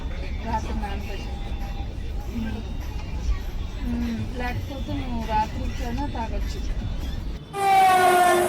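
A train rumbles steadily while departing Tiruppur railway station as people talk nearby, then a loud, sustained horn blast sounds near the end.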